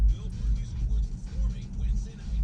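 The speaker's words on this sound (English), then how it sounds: "So the car is just slowing itself to a stop." A Tesla Model 3 slows itself to a stop with no pedal input, giving a low, steady road rumble and faint tire hum from inside the cabin that eases and rises slightly, with no talking over it.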